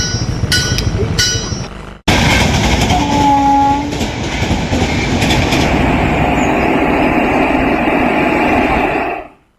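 A Duronto Express train passes near a level crossing in Eluru district, India: a loud, continuous rumble and rattling of rail cars with a brief horn-like tone, steady for several seconds before cutting off abruptly. No one speaks.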